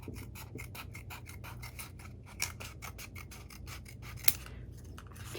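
Scissors trimming a piece of cardstock in a steady run of short, crisp snips, fairly close and even in rhythm, with no talk over it.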